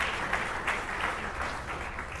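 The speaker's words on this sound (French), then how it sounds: "On acclame encore fort, on acclame encore fort." Steady applause from a crowd at a church fifth-anniversary dinner in Peoria, dense continuous clapping that fills the room at an even level throughout.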